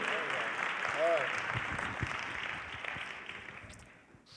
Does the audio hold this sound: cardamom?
no